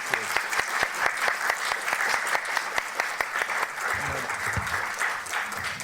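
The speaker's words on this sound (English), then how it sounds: "let's give her one more round of applause" A conference audience at a closing lecture breaks into sustained applause, dense clapping with sharp individual claps standing out, continuing steadily throughout while a voice speaks briefly underneath toward the end.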